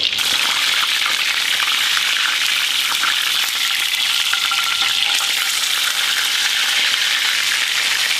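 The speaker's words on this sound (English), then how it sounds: "Right now we're just getting a good sear on the bottom" Steak sears in a cast iron frying pan with a loud, unbroken sizzle that holds steady and close throughout, with small crackles rising now and then.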